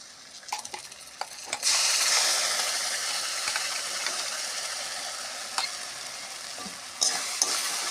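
Jackfruit seed paste frying and being stirred in a pan, a steady close sizzle that rises after a few scraping clicks and runs on continuously, with occasional louder scrapes of the spatula against the pan.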